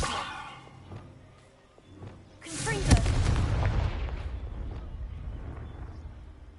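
A Confringo blasting spell in the video game Hogwarts Legacy goes off with a sudden loud boom and a rumbling blast that decays slowly, preceded by quieter game sounds and a voice speaking.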